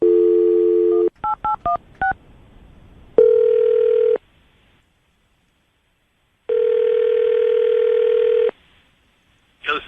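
A telephone dials a call: a dial tone, then a quick run of four touch-tone beeps, followed by two long ringback tones separated by silence, clear and close.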